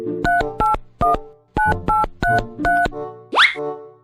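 A telephone number is dialled, eight short evenly spaced tonal beeps in quick succession, followed by a brief rising chirp.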